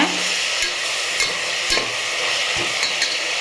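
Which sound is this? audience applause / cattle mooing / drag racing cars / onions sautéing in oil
onions sautéing in oil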